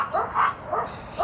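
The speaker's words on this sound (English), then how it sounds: "Sometimes I wish I knew what the hell they was barking about" Dogs barking, a few muffled barks in quick succession, moderately close and heard alone without talk.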